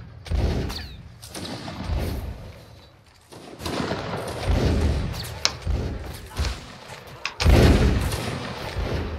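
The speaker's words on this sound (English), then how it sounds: "Oh, yeah, they're shooting at us." Musket volleys in Mount and Blade: Napoleonic Wars: scattered dull booms and thuds at mid distance, several shots rolling over one another.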